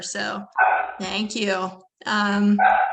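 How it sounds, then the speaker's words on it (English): A dog barks in the background during an online Q&A session, its sharp yips cutting in between and under close, clear speech. "Usually that's my dog barking in the background,"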